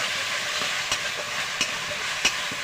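Grated tomato and ginger paste sautéing in a pan for chicken biryani, a steady close sizzle with a few sharp stirring scrapes of the spoon, no voices.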